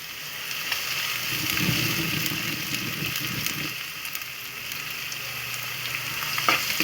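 Food frying in kankun oil in a pan and being stirred, heard as a steady close sizzle with scraping stir sounds throughout, loud and continuous with no talking.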